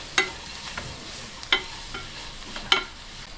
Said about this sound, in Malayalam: നന്നായിട്ടൊന്ന് വഴറ്റാം.